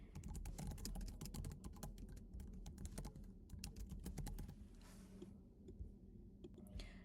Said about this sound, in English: type in a provision or specific language that you would like included by typing it in